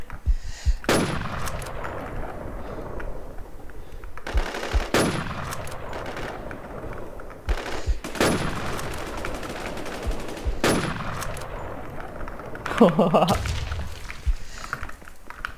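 Machine gun fire in the shooter game Warzone rattles out in several loud, sustained bursts separated by short pauses, with a denser, heavier burst near the end and faint background game noise between them.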